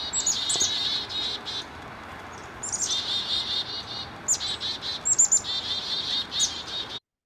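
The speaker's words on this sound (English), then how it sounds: "You'll hear some of the mobbing signal first, and then I'll show you the chickadee itself kind of bouncing around." Chickadees giving mobbing alarm calls at a hawk, bursts of rapid high chattering calls repeated in several clusters over a quiet outdoor background, fairly close.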